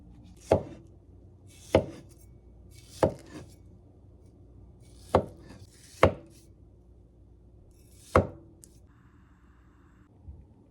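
A knife chops through a dragon fruit on a board in about six sharp, evenly spaced strikes, with longer gaps between some of them, close and alone in a quiet kitchen.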